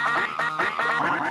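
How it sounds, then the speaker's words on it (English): A duck quacking sound effect played during a comedy podcast, several loud, nasal quacks repeating in a quick, steady rhythm, clear and alone with no talking over them. "Quack."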